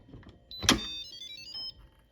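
A short electronic melody of rising and falling beeps plays from an Instant Pot as its lid opens after a brief clunk, clear and close in a quiet room.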